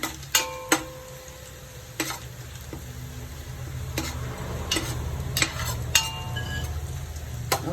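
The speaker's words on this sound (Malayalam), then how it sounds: "നന്നായിട്ടൊന്ന് ഫ്രൈ ആക്കി എടുക്കണം" Onions fry for ghee rice in a pan with a soft, steady sizzle, broken by sharp utensil clinks and scrapes at irregular intervals as the pan is stirred; no voices.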